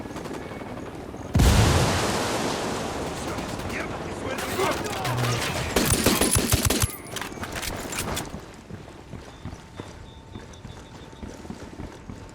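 In the video game Ghost Recon Wildlands, a frag grenade goes off with a sudden heavy blast, followed by bursts of rapid gunfire and scattered shots that fade into quieter background action.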